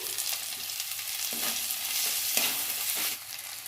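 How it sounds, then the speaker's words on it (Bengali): Chopped tomatoes hit a pan of fried ginger and garlic and sizzle loudly up close. Several scraping stirs cut through the steady frying hiss, which drops away slightly near the end. "আদা রসুনটা ভালো করে ভেজে নিয়েছি। এবার টমেটো কুচিগুলো দিয়ে দিচ্ছি।"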